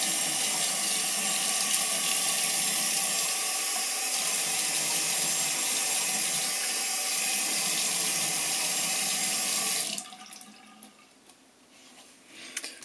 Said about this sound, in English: just going to wet my face and get started here